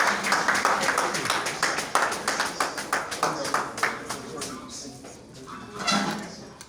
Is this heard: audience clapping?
yes